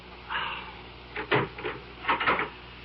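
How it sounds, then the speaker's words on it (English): A door being unlocked and opened in an old radio drama, with a few muffled wooden knocks and latch clicks in separate short bursts, fairly close and moderately quiet. "Open the door, Scotty."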